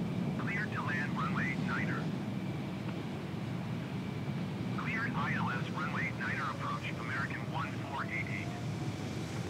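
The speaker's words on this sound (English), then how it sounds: "A long takeoff roll." An airliner's takeoff roll in Microsoft Flight Simulator 2020 at Miami International Airport: a steady, loud, broad engine roar runs throughout, with bursts of high chirping tones layered over it near the start and middle.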